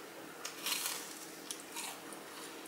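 Crunchy Flaming Hot Cheeto fried pickles are bitten and chewed close up, a few quiet, crisp crunches over a soft, low background.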